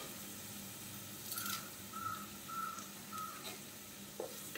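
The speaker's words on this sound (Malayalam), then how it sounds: "ഇനി നമുക്കൊന്ന് നന്നായിട്ട് വഴറ്റിയെടുക്കാം" Chopped onion and curry leaves sautéing in a pan for beef chukka, a soft, steady sizzle with a few brief stirring scrapes, heard alone at moderate, fairly quiet level.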